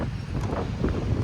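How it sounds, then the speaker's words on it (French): Strong wind at a beach in the Netherlands buffets the microphone with a steady, loud, low roar and rumble throughout, with no clear voices. "il y a beaucoup de vent, je sais pas si vous m'entendrez"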